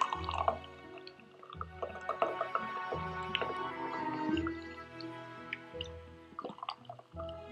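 Sparkling water from a freshly opened can splashes and gurgles into cups already holding a spoonful of syrup, with close, bubbly pouring and dripping in several uneven bursts.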